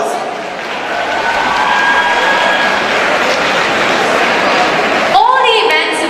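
An audience at a school annual day show for grades 9 and 11 applauds and cheers in a steady, dense wash of clapping that runs for several seconds. A voice carries over it, and the sound trails off at the end.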